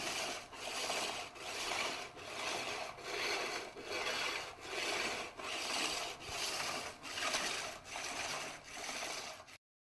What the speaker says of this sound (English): we take objects out and polish with the rough stone to be smooth